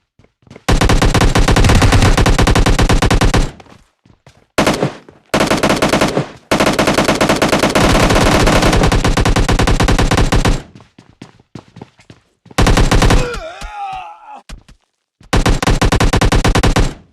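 Groza rifle and M249 machine gun fire in the video game PUBG Lite: loud, long sustained automatic bursts close up, broken by short gaps, with a brief metallic reload-like clatter near the end.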